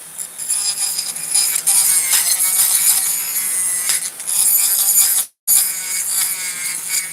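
A rotary tool burr grinds across wood against the grain, making a loud, high-pitched buzzing whine that wavers as it bites and eases, with a brief cutoff before it resumes.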